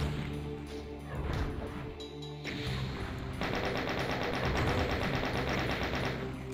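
Rapid gunfire from Doom 2 on Ultra Violence, shooting revenants: dense bursts of loud repeated shots that thicken into near-continuous fire in the second half, layered over background game music.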